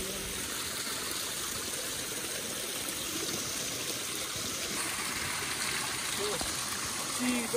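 Steady rushing flow of a water stream, continuous and fairly close, with faint voices underneath.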